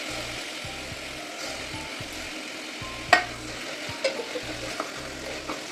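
Chopped tomatoes and mint leaves sautéing in a pan for prawn biryani, a soft sizzle under repeated low rhythmic thumps, with a few sharp scraping clinks of a spoon against the pan.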